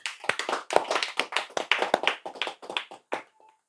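A small audience claps together in response to a call for applause, a run of sharp, distinct hand claps in uneven rhythm that thins out and stops near the end, fairly close and with no voices over it.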